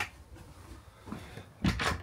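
A small storage locker door at the rear of a 2022 Rollerteam Zefiro Sport Edition motorhome gives faint handling rattles, then a louder clunk as it shuts, close and quiet overall.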